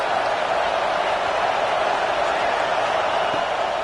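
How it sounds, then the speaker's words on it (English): A football stadium crowd roaring on a big third down while the home defense is on the field: a dense, steady wall of cheering noise, loud and continuous throughout, with a commentator speaking over it. "Big third down as the crowd gets behind this defense."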